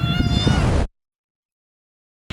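A cat gives one loud, close, drawn-out meow at a rock-cut cave temple by a lake, followed by sudden silence, then a brief return of sound at the very end.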